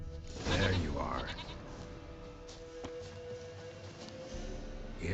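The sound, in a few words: goat bleating, from video game The Witcher 3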